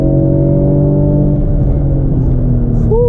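A Mercedes-Benz C300 under full throttle, its engine droning loud and steady from inside the car as the pitch climbs toward a 6,000 rpm shift near the end.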